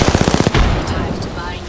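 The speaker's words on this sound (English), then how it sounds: "Shots fired. And they're hitting me." Rapid automatic gunfire in the battle royale game Apex Legends, a quick burst of loud, evenly spaced shots that ends after about half a second, followed by softer in-game noise.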